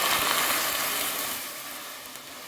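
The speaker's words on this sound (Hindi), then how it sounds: "अब इसमें 1 लीटर दूध लिया है मैंने, फुल क्रीम दूध है। तो ये दूध डाल दूँगी।" Full-cream milk poured into a pan of vermicelli fried in butter makes a steady, broad splashing hiss that gradually tapers and softens as the pour slows.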